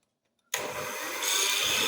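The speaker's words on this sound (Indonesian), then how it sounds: "ini akan saya mixer dari kecepatan rendah sampai kecepatan yang paling" An electric hand mixer beating cake batter switches on abruptly after brief silence and whirs steadily, its pitch and loudness stepping up midway as the speed rises from low toward high.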